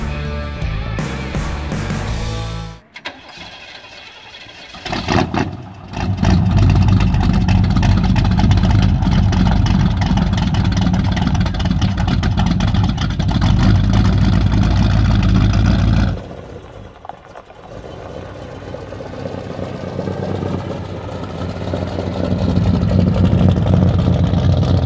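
A 1972 Chevrolet Chevelle with a 327ci V8 and four-barrel Holley carburetor under a large air filter runs loudly close by, a steady rumbling idle broken by a short drop and a stronger surge near the end.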